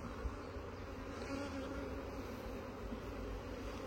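Honey bees buzz steadily at an open beehive during a colony split, a dense, continuous drone close by and at moderate volume, with no voices.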